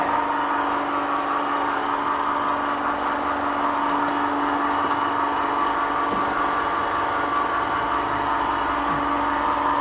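A mini oil press (chekku) crushing black cumin seeds runs with a steady, even motor hum and a faint mechanical whir that stays constant and close for the whole stretch, with no talking.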